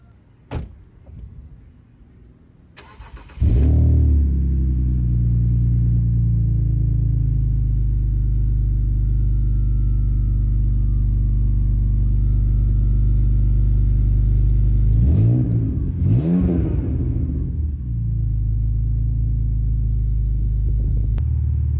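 A BMW E46 with an aftermarket exhaust fires up after a short clatter, settles into a loud, steady, deep idle, then gives two quick blips of the throttle near the end before returning to idle.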